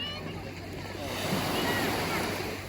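Steady wash of sea waves rolling in at a beach resort, with wind buffeting the microphone and a swelling surge in the middle.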